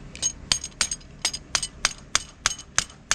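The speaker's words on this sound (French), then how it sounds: "mettre le boulon et taper sur le boulon" A hammer taps a bolt repeatedly while a boat's rigging is assembled: about ten sharp metallic clinks come at a steady, quick rhythm, close and fairly clear over faint background noise.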